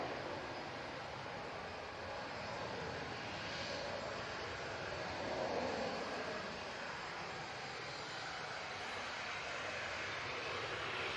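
An airliner departing Manchester Airport gives a distant, faint, steady jet rumble with a broad hiss, holding level throughout and heard alone.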